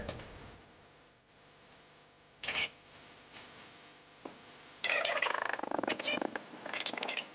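A stud finder slides across a laundry room wall, giving a soft close-up scraping rub: one short swipe, then a longer run of uneven scuffing bursts over a faint background hiss, with no talking.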